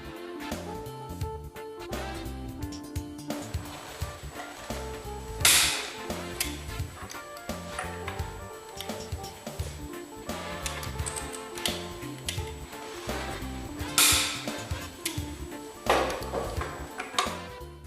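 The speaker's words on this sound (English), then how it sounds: "Using an initial torque of 400 Newton meters, tighten the screws in the tightening sequence shown." A torque spanner clicks and ratchets over and over while tightening a ship main engine's cylinder screws to 400 newton meters. The metallic ticking runs throughout, with two sharper, louder bursts along the way and a steady mechanical background.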